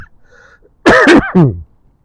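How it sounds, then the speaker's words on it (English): A short burst of harsh coughing, two or three rough hacks close to the mic, with quiet background before and after. "So you'll be hearing me coughing a lot."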